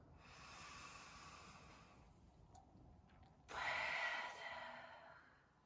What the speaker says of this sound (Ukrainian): Глибокий вдих.